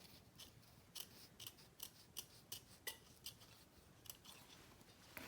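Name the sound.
scissors trimming excess fabric off a wallet card slot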